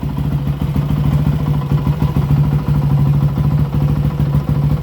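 A motorcycle engine with a freshly rebuilt carburetor runs at a steady, lumpy idle close by, a continuous low throbbing chug with light mechanical clatter and no voices.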